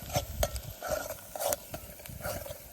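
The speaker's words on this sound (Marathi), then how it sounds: "मसाला हा शेट टाका ना, मसाला टाका." Country chicken with onion and masala stirred in a pan outdoors on a hilltop, with irregular scraping and clinking ladle strokes over a faint sizzle, close by and fairly loud.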